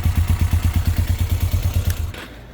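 A Suzuki GS500F motorcycle with a bad starter solenoid cranks with a loud rhythmic chugging thump for about two seconds when the solenoid is bridged, then falls quiet without catching and running.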